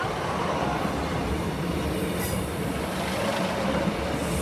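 A British Rail Class 153 diesel unit, 153308, passing the level crossing at Lincoln Central, giving a steady close roar of wheels and engine that fills the whole stretch without a break.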